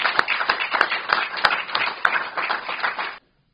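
Audience at a press conference announcing a new accelerated nursing degree breaks into a dense round of clapping that holds steady for about three seconds and then cuts off sharply.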